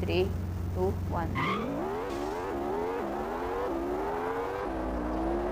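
A Ferrari in the Extreme Car Driving Simulator video game does a launch-control start: the engine holds at a steady rev, then surges through several rising gear pulls. A voice counts down over the engine.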